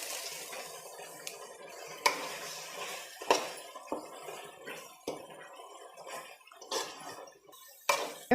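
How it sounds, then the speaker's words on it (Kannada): Pre-fried okra tipped into a pan of fried masala and stirred with a spoon, giving soft scraping with several sharp clinks and taps at irregular intervals, close by, with no talking. "ಫ್ರೈ ಮಾಡಿಟ್ಟಿರೋ ಅಂಥ ಬೆಂಡೆಕಾಯಿನ ಸೇರಿಸ್ತಾ ಇದ್ದೀನಿ."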